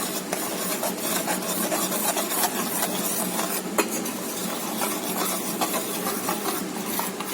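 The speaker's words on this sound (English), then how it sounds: "we'll mix it." Cocoa powder being stirred into chocolate cake batter, a steady, continuous scraping and rubbing of utensil against bowl, close and moderately quiet, with no voices over it.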